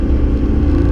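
Loud, close tractor engine rumbling steadily in a deep, throaty drone, heard alone without talk for a brief moment.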